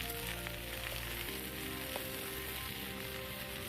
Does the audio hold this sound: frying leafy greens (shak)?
yes